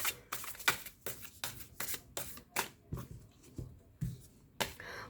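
Tarot-style sacred oracle cards are shuffled for a fortune reading, giving about a dozen quick, crisp riffling bursts in an even rhythm, close and fairly soft, with no one speaking.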